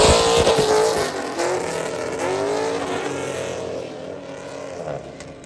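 A car with an LQ4 6.0 V8 engine, BTR Hot Cam, CD009 six-speed transmission and 8.8 rear diff, needing a tune, running loud and close with a deep lumpy idle and a brief rev that settles back down.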